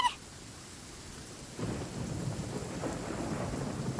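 A thunderstorm in the video game Genshin Impact: a sharp crack of thunder opens, then after a short lull a heavy wash of rain and low rumbling swells in and holds steady, loud and close, with no voices.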